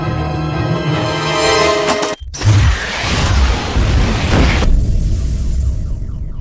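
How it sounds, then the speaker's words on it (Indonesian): A sudden heavy explosion cuts in after a brief silence, then a long roaring, crackling rumble that gradually thins out. "Alhasil, ledakan pun terjadi."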